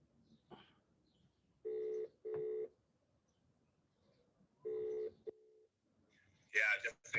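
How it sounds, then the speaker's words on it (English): Telephone tones sound on a call during a leadership lecture: four clear electronic beeps in two pairs, separated by quiet gaps, with a person's voice briefly heard in between and at the end. "Let me try and phone him again."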